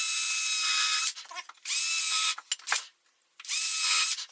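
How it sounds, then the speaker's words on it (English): A power drill bores into a wall in three bursts of high whining motor, each lasting about a second, separated by short pauses with brief clicks and scrapes. "I'm just sitting the drill bit across the hole that is already there"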